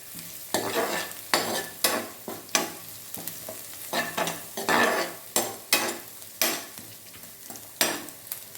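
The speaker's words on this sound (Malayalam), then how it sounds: "മൂന്ന് വറ്റൽമുളക് ഇട്ട് കൊടുക്കാം" Dried red chillies fry in a pan with green chillies and onion for a spinach thoran. Rhythmic scraping stir strokes sound over a steady sizzle, close and without speech.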